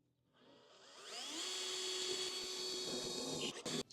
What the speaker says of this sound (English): Right then, drill the pilot hole.